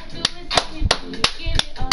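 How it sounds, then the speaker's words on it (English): Six sharp hand claps at an even, moderately quick rhythm, close and crisp, with faint background noise between them. "I had to do a real hand clap"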